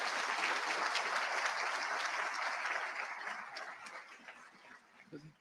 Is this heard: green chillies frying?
no